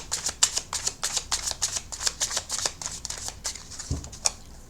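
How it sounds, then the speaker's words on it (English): Tarot cards being riffle shuffled up close, a rapid crisp flutter of many quick snaps lasting several seconds, then a final tap as the deck settles. "I want to do a bit more shuffling and another rifle on these."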